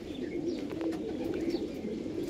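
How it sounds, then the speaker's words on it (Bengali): Low, continuous cooing from a pair of pink-beaked Andhra pigeons fills the short stretch, close and steady, with a few faint higher chirps above it. "এটা গোলাপি চোচ অন্ধ্রা পায়রা।"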